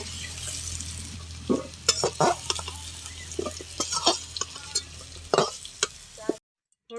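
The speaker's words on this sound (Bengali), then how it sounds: "আলুটা ভাজা হয়ে গেছে এখন তুলে নেবো" Potato pieces fry in hot oil with turmeric and salt, a busy sizzle broken by several sharp scraping stirs near the pan, ending in a brief moment of quiet.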